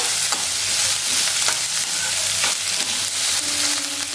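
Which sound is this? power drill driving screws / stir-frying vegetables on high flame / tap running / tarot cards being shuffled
stir-frying vegetables on high flame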